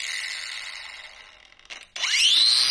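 A Neiko cordless angle grinder fitted with a flap wheel winds down from a steady high whine, gives a brief sputter, then snaps back to full speed with a rising, close and loud motor scream.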